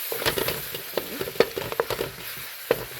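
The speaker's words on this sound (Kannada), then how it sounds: "ಈಗ ಇಲ್ಲಿ ನೋಡಿ ನೀಟಾಗಿ ಎಲ್ಲ ಫ್ರೈ ಆಗಿದೆ." Flattened rice upma (avalakki uppittu) fries in a pan with quick stirring, giving a run of close scraping taps over a soft sizzle, with short sharp strokes spaced unevenly.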